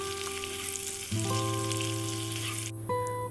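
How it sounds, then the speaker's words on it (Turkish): Chopped onions sizzle steadily in the pot that cooked the meat for Uzbek pilaf, a close, continuous frying hiss with stirring and no voices. "Doğradığımız soğanları yine etleri pişirdiğimiz tencerenin içerisinde güzelce kavuralım."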